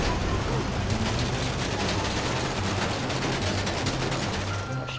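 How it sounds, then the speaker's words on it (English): Steady rapid gunfire in a video game, aimed at a trailer, pounding continuously and loudly with dense crackle and low rumble throughout, fading slightly at the very end. "Oh shit, I'm shooting the trailer"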